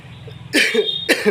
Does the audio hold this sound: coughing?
yes